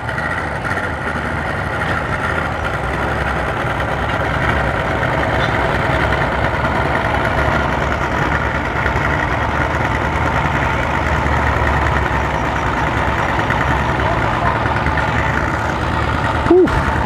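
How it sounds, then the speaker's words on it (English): Four Mercury Verado 300 outboard engines idle at a Miami marina dock in a steady, low, continuous rumble, close and unchanging throughout, with voices faintly beneath. "Quad 300 Mercury Verados."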